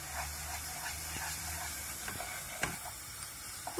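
Tomato paste frying in melted butter sizzles and hisses softly in a pan, with light scraping of stirring and a few small clicks, including a sharper tap near the middle, and no talk over it.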